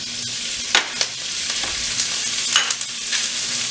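Snow peas stir-frying in hot oil in a pan with garlic give off a steady, close sizzle, broken by a few sharp clatters and scrapes as they are tossed, with no one speaking.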